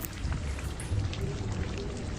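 Steady rain falling on a rainy day, a dense, even patter with no voices, constant in level throughout.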